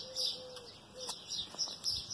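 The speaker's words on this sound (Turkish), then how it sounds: "kuş sesleri" Small birds chirp and tweet intermittently outdoors, light and slightly distant, with a few short calls scattered over quiet background.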